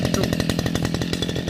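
A grass trimmer fitted with a cutting blade whines loudly and close in a fast pulsing buzz while cutting grass, continuous for the short stretch with no voices.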